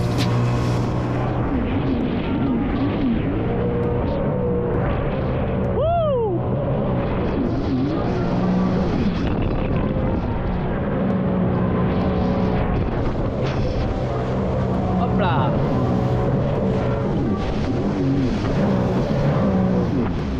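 A Sea-Doo GTI 170 jet ski runs at steady cruising speed on open water, its engine a loud, constant drone mixed with buffeting wind and water rush the whole time, with no talking.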